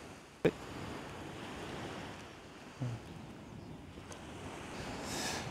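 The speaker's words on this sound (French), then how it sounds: "Là, j'ai la mer en face de moi." The sea stretches out ahead, with a soft, steady wash of waves and wind rushing over the microphone, plus a couple of brief thumps of handling noise.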